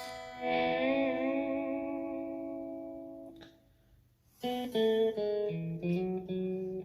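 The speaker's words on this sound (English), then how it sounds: "With the volume swell, it sounds like this." An electric guitar note swells in softly and sustains with echo, then after a pause several more notes fade in one after another, each rising smoothly from silence.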